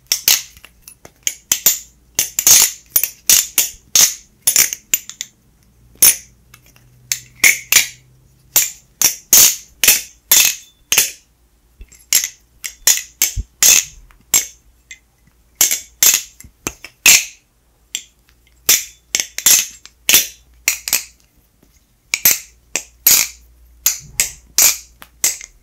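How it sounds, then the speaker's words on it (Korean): A Navalis Cheese balisong butterfly knife with Teflon bushings is flipped in rapid bursts of sharp metallic clicks and clacks, loud and close, with short pauses between runs. "벌프들의 소리 비교와 함께 치즈 발리송의 소리도 한번 들어보시죠"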